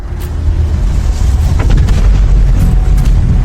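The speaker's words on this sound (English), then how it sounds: "The shock wave generated by this explosion moved forward at a speed of 550 kilometers per second." An asteroid impact explosion unleashes a loud, sustained, deep booming roar that builds within the first half second and rumbles on heavily without pause.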